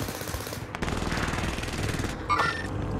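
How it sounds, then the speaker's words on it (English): Loud rapid machine-gun fire in the video game Call of Duty Modern Warfare, a sustained close burst followed by a brief pause and more shots with a metallic ring, and no talking. "I'm under fire."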